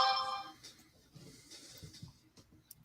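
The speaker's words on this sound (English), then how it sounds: "Get a phone which doesn't make loud noises like that." A phone ringtone plays a short burst of melodic electronic tones at the start, fairly faint, then gives way to quiet background shuffling.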